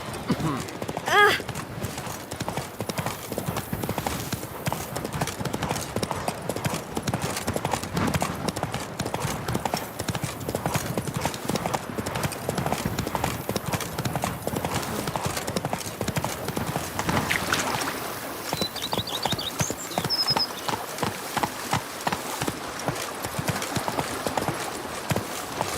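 Horse hooves clip-clop steadily through a Witcher 3 game scene, a continuous rhythmic trotting that runs close and fairly loud for the whole stretch, with a brief whinny near the start and a voice speaking over parts of it.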